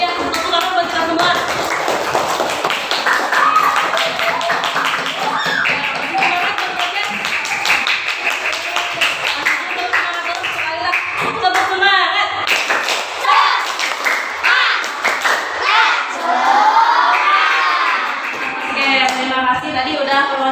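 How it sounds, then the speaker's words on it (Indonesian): A classroom of students claps together during a lesson, a steady run of hand claps lasting the whole stretch, mixed with voices and chatter throughout. "tepuk tangan buat kita semua"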